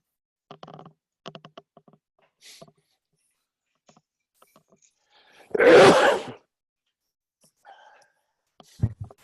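A single loud sneeze bursts out during a quiet online work meeting, standing alone after a few faint keyboard taps and small sounds.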